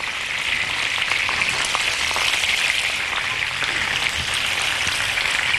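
Capon pieces fry in a pan of oil, giving a steady, close, crackling sizzle that stays even and unbroken throughout, with no voices.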